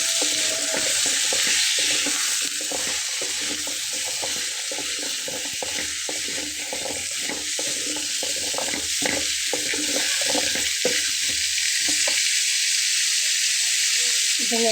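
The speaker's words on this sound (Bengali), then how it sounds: "তো এখন আমি এর ভেতরে দিয়ে নেব তরকারিগুলো" Cut vegetables for a Bengali fish curry, or macher jhol, fry in hot oil. A strong, even sizzle runs throughout under irregular low stirring clatter that stops near the end.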